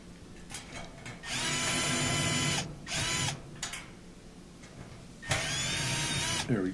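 A power drill drives screws to fasten a plate inside a gas dryer, making several whirring bursts of a second or so each, close and fairly loud, separated by short pauses.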